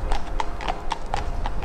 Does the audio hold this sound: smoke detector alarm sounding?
no